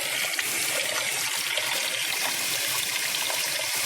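Water pours steadily through porous bio block rock in an aquarium refugium, a continuous close trickling and splashing wash with no pauses.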